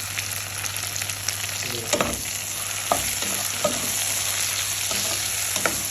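Chopped onions, tomato, ginger and green chilli sizzle steadily in a pan for chicken curry, with a constant close frying hiss and occasional stirring clinks and scrapes, no talking.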